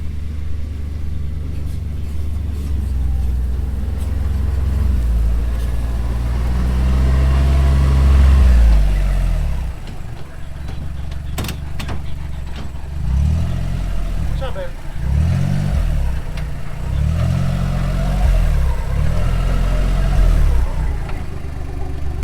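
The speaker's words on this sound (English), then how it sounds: "Once I get to moving, it'll get a little bit louder, but really, I think for most side-by-sides that I've been on, it's not too loud at all" Tracker 800 SX Crew side-by-side on a farm, engine droning steadily at close range then pulsing as it moves off and picks up speed, with a low rhythmic throb and little talk.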